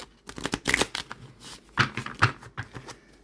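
Tarot cards riffle and slap together in a few quick bursts, close and crisp, with soft handling sounds between shuffles.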